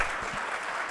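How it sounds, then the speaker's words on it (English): Audience applauding at an MLK celebration evening, a short burst of steady crowd clapping, moderately loud and without speech. "Please give a round of applause to Mr. Darius Dotch, Mr. MLK Sapp."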